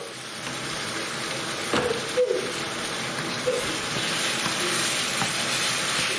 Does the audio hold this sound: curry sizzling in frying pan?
yes